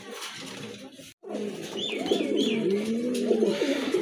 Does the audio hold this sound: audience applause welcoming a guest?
no